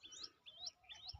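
A small bird near a water pot hung out for birds gives three quick rising chirps in a row, faint and thin against a quiet background.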